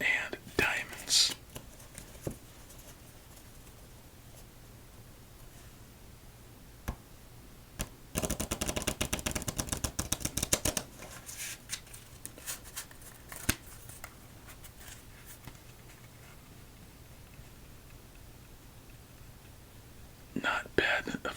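Playing cards riffle in a dense burst of rapid flutter in the middle, with a few brief card snaps before and after amid quiet handling noise.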